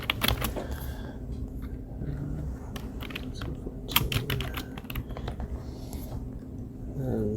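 Typing on a computer keyboard, quick irregular clicks of keys, some in fast bursts and others spaced apart, close and moderately loud over a low room hum.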